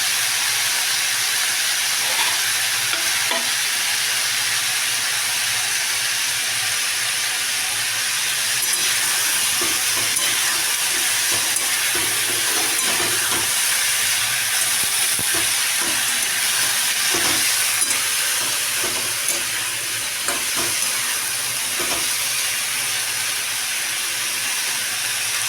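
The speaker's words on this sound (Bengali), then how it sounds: "অল্পই ভাজবো, বেশি ভাজা ভাজা নয়।" Potato pieces fry in oil in a pan during home cooking, giving a steady, close sizzling hiss that continues throughout with no talking.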